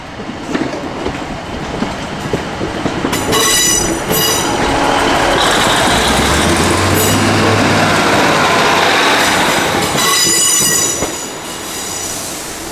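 A train runs loudly on rails near Coombe Junction on the Looe line, wheels squealing and clattering as it rolls past close by, the noise swelling and then easing off.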